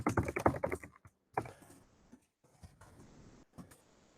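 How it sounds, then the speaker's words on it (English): Rapid typing on a computer keyboard, a dense burst of close clicking keystrokes at first, then a pause and lighter, sparser taps with short gaps, no voices. "if I was typing up a new email"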